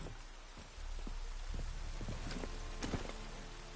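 Horse hooves clip-clopping at a steady walking pace in The Witcher 3 on PS5, close and clear over a constant ambient background bed, with no speech.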